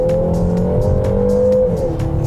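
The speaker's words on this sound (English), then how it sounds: "In Sport mode, there is also a little bit of augmented engine noise that comes through into the cabin" Synthetic engine sound piped into the cabin of a 2023 Peugeot 3008 GT in Sport mode, a steady robotic drone with sustained tonal bands that shift slightly in pitch, heard alone.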